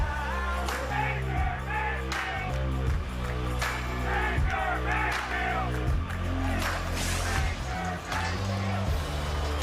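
A stadium crowd at a 2018 Cleveland Browns home football game against the Jets roars in a steady frenzy, with dense cheering and shouting blended under music and a commentator's voice.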